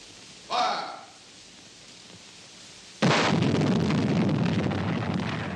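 Artillery piece fires in a training exercise: a faint short report early on, then a loud, close blast at about three seconds that rolls on in a long, heavy rumble to the end.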